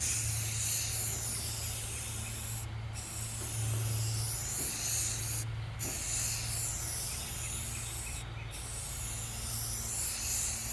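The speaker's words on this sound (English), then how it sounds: "I'm gonna spray this thing just like I would if I was painting a car" Spray can hissing steadily as it lays a first coat of paint onto a car body. The spray is broken by three brief pauses, and the sound stays close and continuous.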